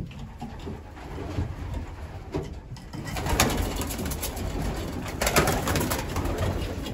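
Yearling racing pigeons coo and rustle close by as they are let out of their loft, with soft overlapping calls and wing flutters over a steady background.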